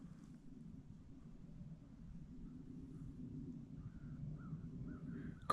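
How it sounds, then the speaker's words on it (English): Crows caw faintly in the distance on a cold, overcast morning, a few scattered calls over a low steady outdoor rumble, growing slightly more frequent toward the end. "Crows are just now starting to wake up and talk"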